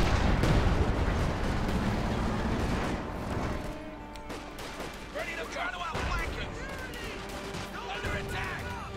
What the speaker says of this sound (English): 50 cal doing what they can to hold back the German infantry